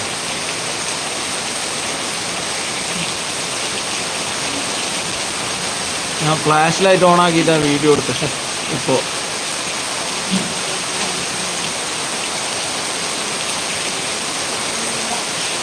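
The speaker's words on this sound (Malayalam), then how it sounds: "നല്ല കണ്ണത്തിലുള്ള നല്ല ശക്തിയായ മഴയാണ് കേട്ടോ ഒരു രക്ഷയില്ലാത്ത മഴ" Heavy monsoon rain during a thunderstorm pours in a steady, loud hiss throughout, while someone speaks briefly in the middle over the constant downpour.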